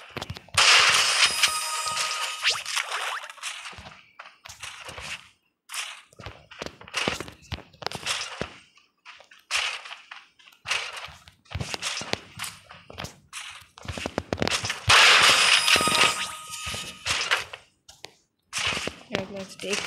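Gunfire in a shooting video game rings out in repeated sharp bursts and scattered single shots, loud and close, mixed with footstep-like clatter while a player talks excitedly over the action.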